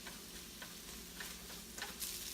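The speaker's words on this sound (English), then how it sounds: "Add in some cumin, squeeze some garlic. And we're just gonna let that sizzle around for a bit." Cumin and garlic sizzle in a pan, a soft steady crackling hiss with a few light stirring clicks, faint and close, no talk.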